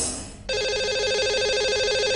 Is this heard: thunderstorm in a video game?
no